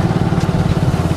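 A motorbike ridden along a road with a passenger on the back drones steadily up close, its engine running loud and even throughout, with road and wind noise.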